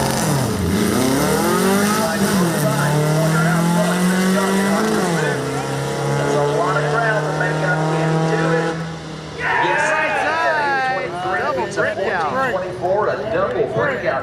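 Volkswagen Street class drag cars launch and roar down the strip at a drag racing event, loud engines rising in pitch as they accelerate, with an announcer talking over the noise throughout.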